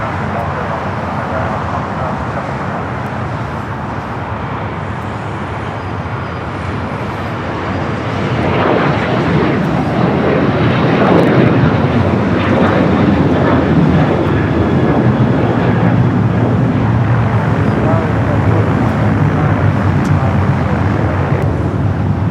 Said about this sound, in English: the Emirates A380 Super getting closer for a north side arrival